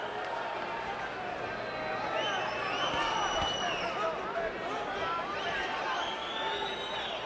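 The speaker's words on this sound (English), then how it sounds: "It's very strange hearing a crowd boo Marco Antonio Barrera." A boxing arena crowd boos through a dull Marco Antonio Barrera vs Rocky Juarez fight. The broad crowd roar is fairly loud and steady, with a commentator talking over it.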